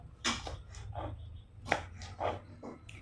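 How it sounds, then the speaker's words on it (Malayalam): Green beans being chopped with a knife on a cutting board in a home kitchen, a handful of crisp, close knocks spaced unevenly with quiet room hum between. "പയറൊക്കെ ഏകദേശം അത്ര പെട്ടെന്ന് തന്നെ അരിഞ്ഞു കഴിഞ്ഞു"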